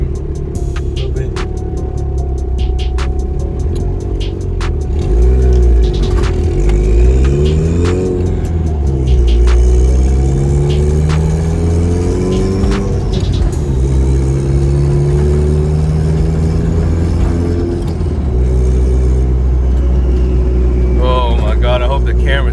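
A turbocharged Honda Civic making about 300 horsepower on 20 psi of boost pulls hard on a highway, its loud engine droning and rising in pitch through repeated accelerations, with brief shifts between them and a turbo whistle near the end.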